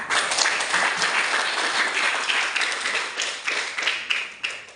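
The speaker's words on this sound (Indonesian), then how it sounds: "beri tepuk tangan dulu untuk Mei Rodanita" Classroom applause in a school biology lesson, a dense, steady burst of clapping from a group of students, fairly loud and continuous with no talking over it.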